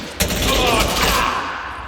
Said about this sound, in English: I'm not really sure where I'm getting shot from.